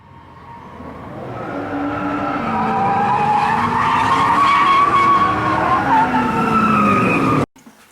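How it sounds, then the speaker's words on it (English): An Infiniti G35 drift car skids at a drift track day, its tires squealing loudly and steadily over engine roar for about seven seconds before cutting off abruptly. No one speaks. "I'll be showing you some footage from my third drift event"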